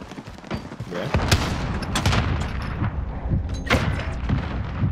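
A 725 shotgun and other weapons fire in a video game match, with loud booming blasts at an irregular rhythm over a dense, continuous rumble.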